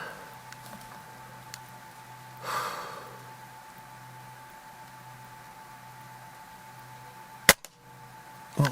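A Gamo Shadow Elite .22 break-barrel air rifle fires a lead pellet: a single sharp, close crack late in an otherwise quiet outdoor stretch, preceded by a softer rustle.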